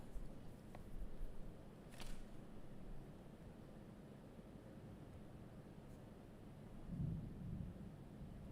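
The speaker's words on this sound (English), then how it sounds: "I don't mind the rain, but the lightning's getting stupid." Low, steady rumbling of thunder rolls through heavy rain, swelling slightly near the end, with a couple of faint crackles earlier on.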